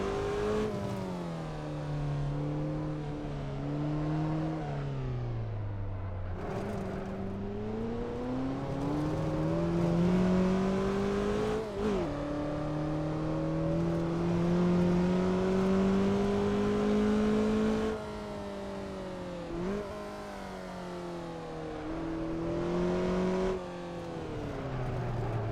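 Engine of a car in a driving simulator game on an autocross course rises and falls in pitch through repeated accelerations, gear changes and lifts, loud and continuous with no talk.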